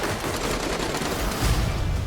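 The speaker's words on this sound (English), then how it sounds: "A lot of gunfights." Sustained, dense gunfire from a Netflix action film, Extraction, rattles continuously for about two seconds, loud and close with rapid overlapping shots and no pauses.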